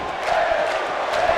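Crowd in the SmackDown Live arena of the WWE 2K18 video game cheers for Bayley, a steady roar of massed voices with a few whoops rising above it.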